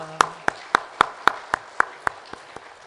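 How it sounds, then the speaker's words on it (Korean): A congregation at a Korean church Sunday service claps together in unison, about ten sharp, evenly spaced claps in a steady rhythm that fades slightly toward the end. "여러분 한 분 한 분에게 좋으신 그 하나님께 영광의 박수 올려드리겠습니다."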